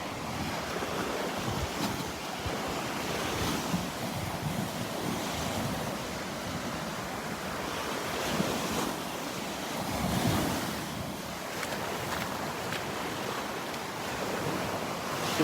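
Ocean waves roll and wash onto the beach at Delnor-Wiggins on a morning walk, a loud continuous surf roar with gusts of wind buffeting the microphone and no talk.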